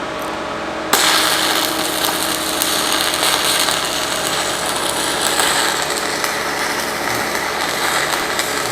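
Stick welding an uphand pass with a 1/8 inch rod on 3/8 to 1/2 inch steel plate using a Yeswelder Firstess DP200; a steady, close, loud crackling hiss starts abruptly after a second and continues without a break.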